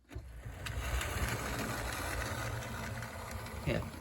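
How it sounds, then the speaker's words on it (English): A Streamline K4 model locomotive on an older Bachmann chassis runs in reverse, giving a steady, fairly quiet motor whir and track rumble for several seconds, with a brief clatter near the end. "Next up is the Streamline K4 with the older Bachmann chassis underneath, which does indeed seem to run."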